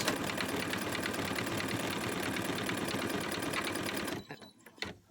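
Embroidery machine stitching a face mask design, a steady rapid mechanical whirring and clatter that runs loud and continuous for about four seconds, then stops abruptly, leaving a few faint knocks.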